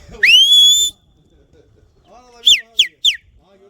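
A loud, sharp rising human whistle, then a pause and three quick shorter whistles in a row, close and shrill with a few low murmurs, at a pigeon flying gathering in Kahramanmaraş, Turkey.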